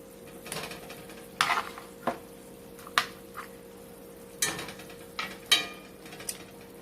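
Pork chops are set on top of apples in a skillet, with a soft sizzle under a series of sharp clanks and scrapes of a utensil against the pan, spaced out and close.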